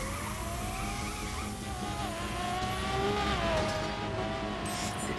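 Race cars in The Crew on PS4 hum with steady engine noise, a whining motor note sliding up and down through gear changes and a faint tire squeal, with no talking over it.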